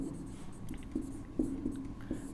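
A pen scratches across paper in short, soft strokes as notes are written, faint and close in a quiet room.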